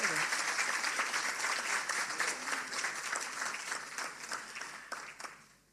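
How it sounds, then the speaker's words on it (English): Awards ceremony audience gives a sustained round of applause, dense steady clapping filling the room and slowly tapering off near the end. "So please applaud him again."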